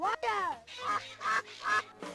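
A cartoon duck gives a run of loud, nasal quacks close up, about four or five in a bouncy rhythm, in a children's song about a mother duck and ducklings, with no talking over them.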